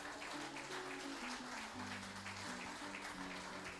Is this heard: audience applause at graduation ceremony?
yes